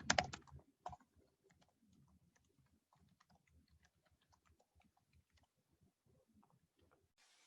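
Faint, quick keystrokes on a computer keyboard while logging in to Microsoft Teams, a couple of sharper clicks at the start followed by steady soft, close tapping.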